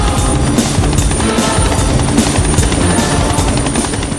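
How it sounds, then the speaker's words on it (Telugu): A helicopter is loud and near, its rotor beating in a steady rapid rhythm of regular pulses throughout. "helicopter sound"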